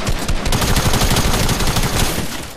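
Rapid, dense bursts of attack SMG fire in Fortnite crackle loudly and continuously for a couple of seconds, with no talk over them.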